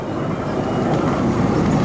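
An amusement park train ride at Pleasurewood Hills rolls along its track with a steady, close rumble and faint clatter, captured from the back of the train with no one speaking.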